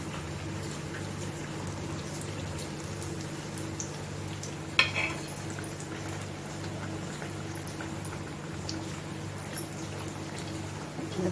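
Bread patties shallow-frying in oil in a pan, a quiet continuous sizzle over a low steady hum, with one brief clatter midway.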